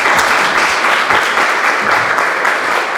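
A studio audience claps steadily to welcome a guest onto a Romanian television travel programme. The applause is loud, dense and continuous for the whole stretch.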